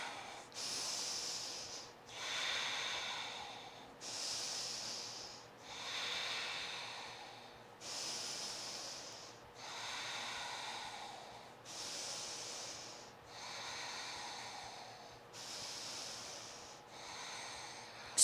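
Slow, steady breathing held in a yoga warrior 2 pose during a strenuous class, with about nine close, airy nasal inhales and exhales in an even rhythm, alone and unaccompanied by speech.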